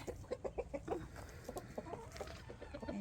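Frost Legbar hens clucking and chattering close by in a rhythmic run of short clucks, with a longer call near the end and a rooster-like tone in the flock.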